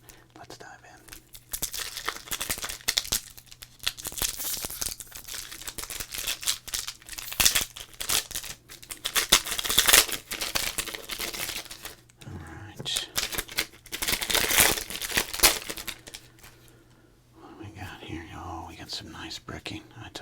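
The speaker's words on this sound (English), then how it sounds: "cards from this era that were super glossy stick together. And after 30 years, you need to peel them apart" Decades-old glossy baseball cards stuck together are peeled apart up close, giving a steady crackling, tearing texture in bursts, with soft whispering running underneath.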